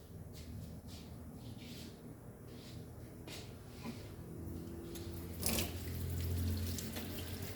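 Dal lentils being rinsed in water in a home kitchen while making hara bhara kebabs, with steady running tap water and sloshing, a brief louder splash midway, close and continuous with no talking.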